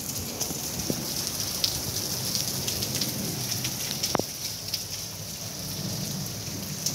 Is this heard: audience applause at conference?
no